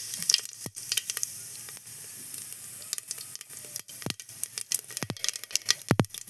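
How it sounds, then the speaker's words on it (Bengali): Cumin seeds sizzling in a small amount of hot oil in a pressure cooker, a steady close hiss broken by sharp crackling pops and brief spits. "কুকার গরম হয়েছে, এখন আমি এই যে সামান্য তেল দিয়ে দিব। তেল দিয়ে দিলাম, সামান্য জিরা দিয়ে দিলাম"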